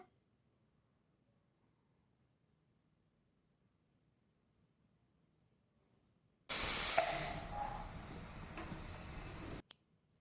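A pressure cooker boiling cowpeas lets out a sudden loud rush of hissing steam after several seconds of near silence, holding steady for about three seconds before cutting off abruptly.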